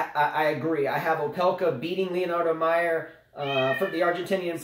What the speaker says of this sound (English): Sorry, that's our cat. He's excited.